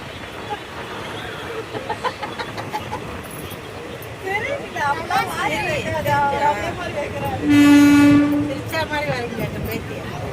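Rumbling train noise with crowd babble, then a loud train horn blasts for about a second; people talk throughout.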